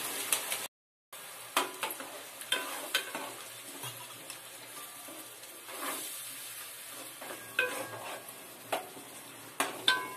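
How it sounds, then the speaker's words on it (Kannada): Ground tomato paste frying in a pan for paneer butter peas gravy, giving a soft, continuous sizzle broken by repeated spatula scrapes and stirring knocks, with a short gap early on. "ಈ ತರ ನೀಟಾಗಿ ಚೆನ್ನಾಗಿ ಫ್ರೈ ಮಾಡ್ಕೊಬೇಕು ಟೊಮೆಟೊ"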